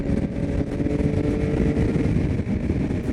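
A 2022 Yamaha XSR900 with an 890cc CP3 inline three-cylinder engine is ridden hard through mountain corners, its engine droning steadily close by with wind noise and slight variations in load.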